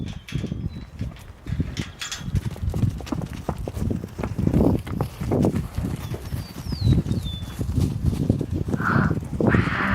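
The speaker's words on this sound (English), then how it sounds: "here come the horses" Horses walk past a pasture gate, their hooves clip-clopping in an irregular, uneven rhythm at close range, with faint bird calls in the background.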